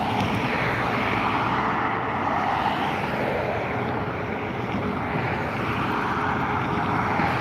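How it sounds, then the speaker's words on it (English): A one-year-old British Airways Airbus A321neo, bound for London Heathrow, begins its takeoff roll at Dublin Airport, a steady, broad jet engine roar that holds loud and even throughout with no voices. "That is GTNED, a one-year-old Airbus A321neo, heading over to London Heathrow, British Airways. Beginning its takeoff roll right around now"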